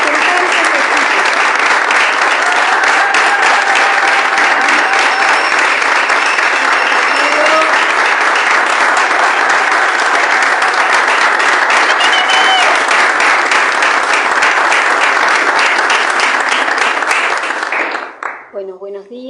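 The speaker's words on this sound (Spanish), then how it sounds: "un fuerte aplauso porque son nuestros representantes legítimos" Loud, sustained applause fills a press conference for a national strike, a dense steady clapping from a crowd that runs for many seconds before fading near the end.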